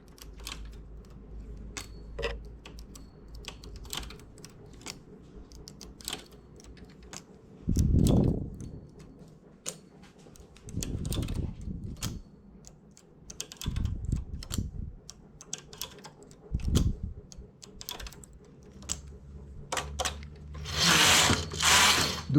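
A knitting machine transferring stitches gives scattered light mechanical clicks and ticks, with a few louder thumping slides of the carriage and metal parts, close and with no talking.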